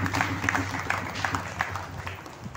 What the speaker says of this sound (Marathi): त्यांच्याकरता टाळी वाजवा